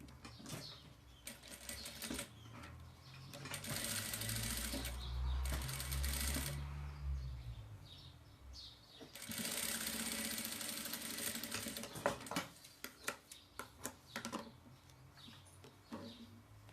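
A sewing machine stitches a seam on boy's diaper-cover overalls, its motor running in steady whirring bursts with pauses, then quieter ticking.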